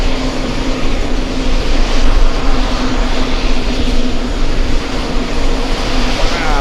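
Airliners, an Etihad Airbus A350 and a Boeing 787, roar at an airport in a loud, steady, broadband jet rumble that stays close and powerful throughout, with no clear speech.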